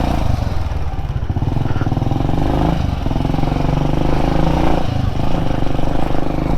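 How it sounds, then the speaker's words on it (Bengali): An XL motorcycle rides off-road along a rough shortcut, its engine droning loudly and steadily at close range with slight surges in revs. "এই বাইক নিয়ে বের হলে আমার অফ রোডে যেমন কেমন জানি টানে"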